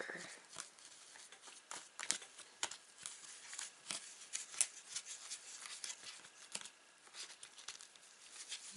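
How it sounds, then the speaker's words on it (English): A spoon stirs Popin' Cookin' candy sushi mix in a small plastic tray, making a steady run of close, scraping and clicking strokes that repeat irregularly throughout, with no talking. "And then we get our shoon and stir."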